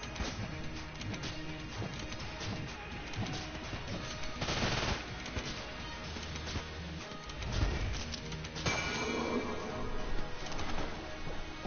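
Rapid gunfire in the video game Enter the Gungeon, a busy stream of quick shots and crashing impacts layered over game sounds for nearly twelve seconds, moderately loud with no speech.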